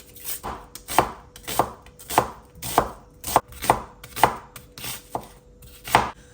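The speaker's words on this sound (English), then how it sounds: "I'm going to just thinly slice them and then cook them low and slow till they are beautifully golden and caramelized." Onions thinly sliced with a knife on a cutting board, with about a dozen crisp, evenly spaced chopping strikes close by and no voices.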